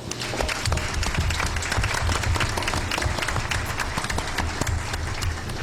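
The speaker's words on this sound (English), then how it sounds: "Let's give them all a round of applause." A congressional debate audience bursts into a round of applause for veterans, sustained crisp clapping with individual sharp hand claps standing out across the whole stretch.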